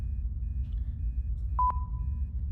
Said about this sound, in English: Okay, I've got a beep on the REM pod.